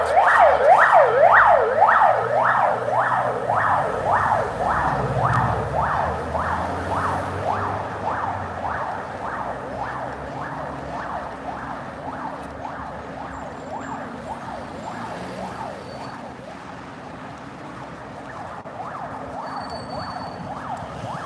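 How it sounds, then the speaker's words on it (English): An ambulance siren wails in a fast, rising and falling rhythm as it passes along a street in central Kaliningrad, Russia, loud at first and gradually fading into traffic noise. "The ambulance."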